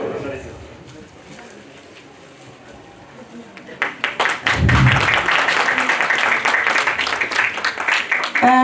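An audience at a national conference on herbal medicines breaks into applause as session chairpersons are felicitated with bouquets. The clapping starts quietly, then swells into dense, sustained hand claps under background voices.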